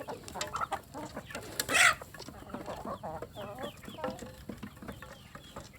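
Free-range village chickens cluck and murmur close by in a steady scattered chatter, with one sharp louder squawk standing out near the middle and no voices over them.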